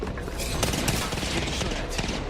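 A dense burst of video game gunfire, with rapid overlapping shots crackling loudly throughout a short moment of online combat.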